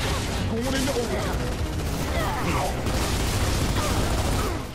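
Dense, continuous gunfire in the video game Gears of War: Judgment, with rapid overlapping shots and mechanical clatter filling the scene loudly throughout, voices talking underneath.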